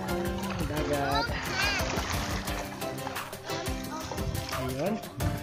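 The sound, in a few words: sea water splashing at the shore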